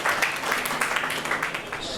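Applause from an audience at an evening gathering, a brief, moderately loud wash of clapping with no break.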